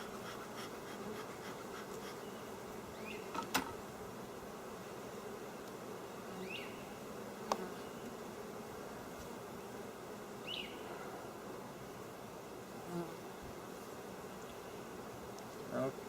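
Honeybees buzz steadily around an open hive while a keeper works through the frames, a low continuous drone with occasional individual bees passing close by.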